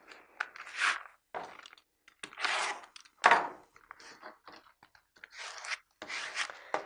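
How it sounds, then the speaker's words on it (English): An application tool burnishes craft vinyl onto transfer tape, making short, dry rubbing and scraping strokes in separate bursts, close and fairly quiet, with silent pauses between them and no talking. "just use the application tool and just burnish or rub down so the vinyl sticks onto the transfer tape"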